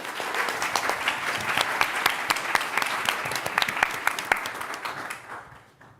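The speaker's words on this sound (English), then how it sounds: "let's start the applause over here and then bring it across the room" Audience applause at a startup demo day, a thick wash of many hands clapping with sharp individual claps standing out, sustained for several seconds before tapering off at the end.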